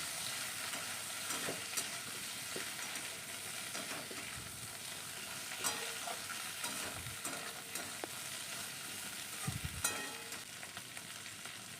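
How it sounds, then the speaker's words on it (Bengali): Okra frying in a kadai with panch phoron and dried red chillies, a faint steady sizzle with soft intermittent scrapes and clacks of a spatula stirring, heard alone. "ভাজা হয়ে গেছে, এখন কড়াইতে ভেন্ডিটা দিয়ে দিয়েছি।"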